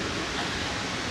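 Waterfall throwing misting spray in southern Mexico, a dense, even roar of falling water heard up close and steady throughout.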